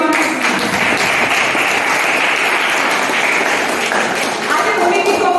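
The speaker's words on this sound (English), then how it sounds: "A big round of applause for everyone." An audience at a club meeting applauds, with sustained, loud, dense clapping that continues steadily throughout.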